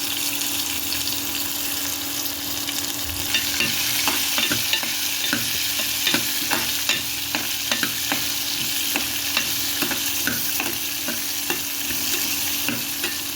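Large onions sauté in a pan for mutton curry, a constant sizzle overlaid by a rapid series of spatula taps and scrapes in the second half, close and steady with no talking.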